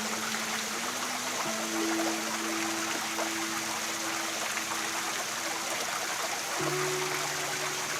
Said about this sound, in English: I can still get all that section of the water that's coming down the falls